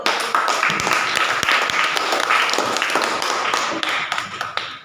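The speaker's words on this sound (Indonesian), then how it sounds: "Tepuk tangan dulu" A class of students claps hands together in a steady, dense burst of applause that keeps going for several seconds before tapering off, with sharp individual claps standing out near the end.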